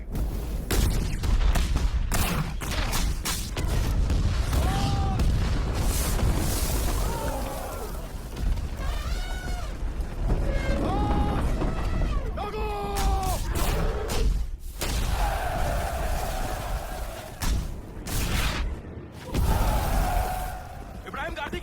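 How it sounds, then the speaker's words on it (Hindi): Cannon fire in a film battle scene, with repeated heavy booms and blasts over a constant rumbling din, joined by shouting voices and a swelling dramatic score throughout. "अपनी तोपें दागो इन पे।"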